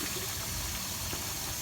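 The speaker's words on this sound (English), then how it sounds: "So I'll give you a little flush with it, the lid off." A toilet flushes into a mini septic tank with the lid off, a steady close rush of gushing, trickling water that fills the whole moment without pause.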